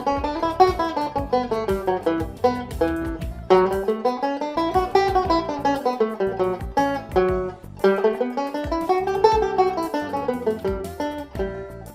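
Banjo picks out a nine-note scale exercise, climbing and falling through the modes in steady, evenly plucked runs with bright ringing notes, played alone and close with no talking.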